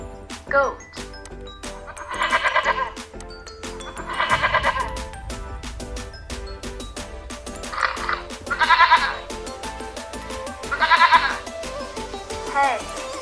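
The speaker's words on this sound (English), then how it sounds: "goat." A goat bleating in a computer-assisted instruction lesson, several wavering cries repeated at intervals, fairly close and clear against a quiet background.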